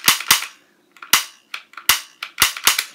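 Trigger and hammer of a Beretta M9 toy pistol clicking sharply and loudly, about eight crisp clicks in irregular pairs with brief pauses between, close up and alone.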